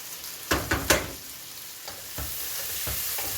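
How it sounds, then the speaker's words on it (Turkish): Rice toasting in a hot pan for Turkish maqluba, with a few sharp spoon scrapes and stirs over a soft, steady sizzle. "Pirincimi birazcık kavurayım."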